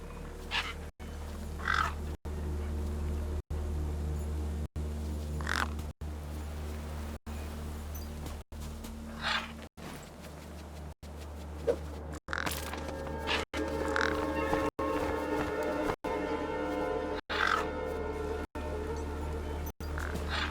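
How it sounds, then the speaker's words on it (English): Crow-like gang birds in the video game Beyond a Steel Sky give repeated harsh caws over a steady droning game ambience, with several calls spread across the scene at moderate distance. "The gang birds were eyeing up the corpse hungrily."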